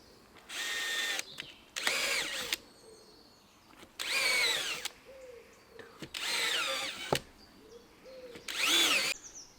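Chain mortiser cutting mortises in wooden beams for a barn annex, five loud whining bursts of roughly a second each with short quiet gaps between them, close by.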